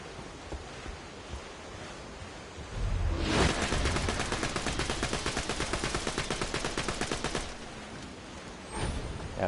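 Rapid gunfire from the Infinity Pistol in Borderlands 2: a sustained burst of fast, evenly spaced shots lasting about four seconds, loud and close, after quieter ambient noise, with a single shot at the end.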